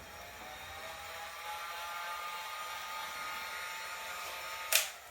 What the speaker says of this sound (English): I use the heat gun.